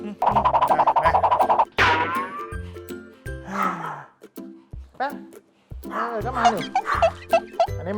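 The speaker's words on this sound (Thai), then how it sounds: "เนี่ยน้องแปมชอบเห่า แต่ก็ชวนเล่นนะ แต่เห่า" A small dog barks, yips and whimpers in bursts while playing indoors, close to the microphone, with someone talking over and between the sounds.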